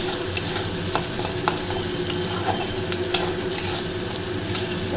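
Onion sizzles steadily in hot oil in a kadai, a dense continuous frying hiss with occasional small pops and stirring ticks, close and fairly loud; no talk.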